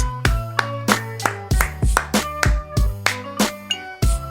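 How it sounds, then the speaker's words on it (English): Slow, deliberate hand claps, about a dozen sharp resonant smacks spaced roughly a third of a second apart, close and loud against a low sustained tone, with no talking. "Slow clap."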